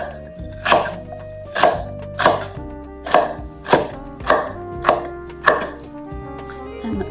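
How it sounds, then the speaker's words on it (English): A knife cuts celery into slices on a cutting board, giving eight evenly spaced crisp chops about a second apart, close and clear. "Just cut it into maybe 1 centimeter slices"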